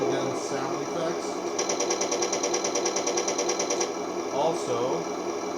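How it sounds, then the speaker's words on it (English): The toy Heng Long M41A3 Walker Bulldog RC tank plays its machine gun sound effect, a rapid, even rattling burst lasting about two seconds, with someone talking over it. "Also got machine gun sound effects."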